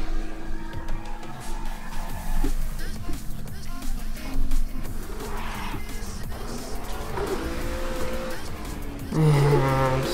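A Ginetta G55 GT4 race car slides and spins on a snowy track at Zolder in a racing video game, its engine droning steadily with tire squeal and skidding. A person talks over the game sound.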